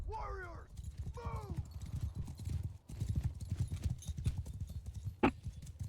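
Cavalry horses galloping in the video game Bannerlord, dense rapid hoofbeats with a couple of whinnies at the start, loud and continuous, with speech also present.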